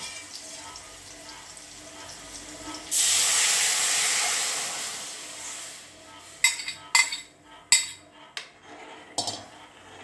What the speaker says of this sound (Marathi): हे हलवायचं आणि मग हळूहळू ओतायचं नाहीतर अंगावर उडेल